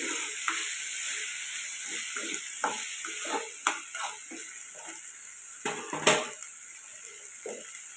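An egg curry mixture sizzles in a hot pan while a spoon stirs it, giving repeated scraping and clinking strokes in an uneven rhythm over a constant frying hiss, with no talking.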